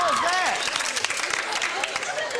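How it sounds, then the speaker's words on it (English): Studio audience applause on a 1997 TV quiz show, a dense, steady wash of clapping that fills the whole stretch, with voices and whoops rising over it. "Round of applause"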